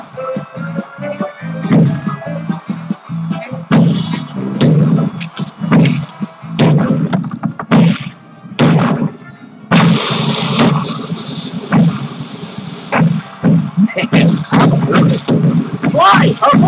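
Cannons firing cannonballs in the Sly Cooper Thieves in Time video game, a run of booming, thumping shots spread over the stretch with game sound between them, some voices now and then.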